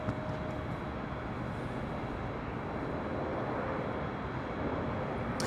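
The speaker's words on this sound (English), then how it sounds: "On the Bond Airways Flight 106 coming in from Tokyo Haneda, 777-300ER." Steady distant roar of a Boeing 777-300ER arriving at LAX from Tokyo Haneda, a broad continuous rumble with no talk, holding an even level throughout.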